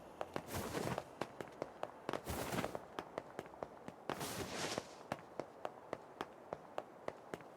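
Bomb blasts in the video game NieR Replicant, three soft bursts of crackling noise spaced a couple of seconds apart, with a steady run of light rhythmic taps like footsteps continuing throughout, all fairly faint.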